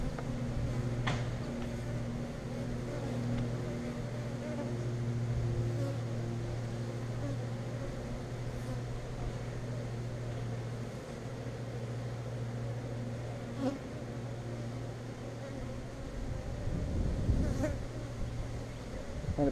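Honeybees buzzing around an open hive during a weekly inspection, a continuous droning hum with individual bees passing close by, steady throughout with a few louder fly-bys.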